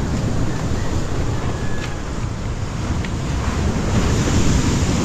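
Large sea waves surge and wash around a small boat along a coast, with heavy wind buffeting the microphone in a constant loud roar; no one speaks.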